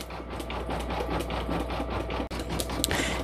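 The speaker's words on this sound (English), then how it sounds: "I'm going to lower the pressure foot, and it's going to stitch the nap tack" Single-needle embroidery machine stitching a nap tack (knock-down) stitch, a steady, close mechanical whirring hum with rapid rhythmic needle clatter running throughout, no voices.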